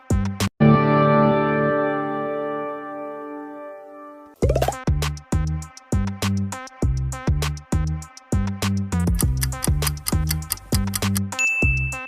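Ford car logo animation jingle: a bright sustained chord rings out and slowly fades, then a crisp, rhythmic plucked and ticking musical pattern plays in even pulses to the end, clean and without voices.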